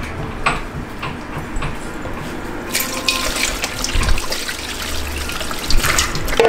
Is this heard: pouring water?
yes